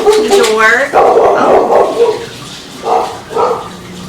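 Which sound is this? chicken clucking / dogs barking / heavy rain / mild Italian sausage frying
dogs barking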